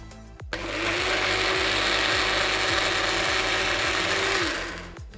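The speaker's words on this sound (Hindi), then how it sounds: "Let's grind this." A mixer grinder blends oats chila batter in one continuous run of about four seconds, a loud steady whirring roar with a rhythmic mechanical rattle that spins up and winds down.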